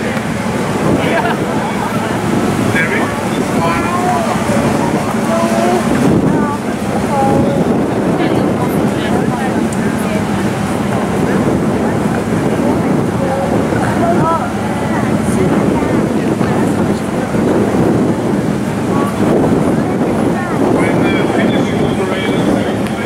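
Wind buffets the deck of a tall ship during the Tall Ship Races, a loud, continuous blustery rush with water noise beneath and people talking in German throughout.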